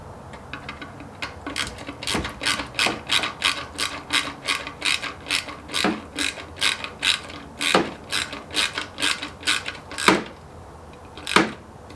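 A ratchet wrench tightens a 10mm bolt clamping a bracket under the intake manifold of a VW. Rapid clicking runs in steady bursts up close, with a few sharper knocks toward the end and no talk.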